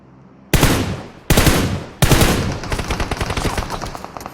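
Gunfire in PUBG on the Livik map: two loud, sharp single shots ring out in quick succession, then a sustained rapid automatic burst rattles on close and loud, with no voices.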